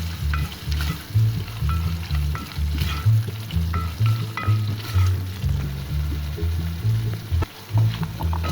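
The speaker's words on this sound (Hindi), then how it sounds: "अब हल्का सा इसको मसाले के साथ भून लेते हैं।" Potatoes frying in a spice masala with ghee in a pan, a steady close sizzle broken by repeated scraping stirs, with no voices.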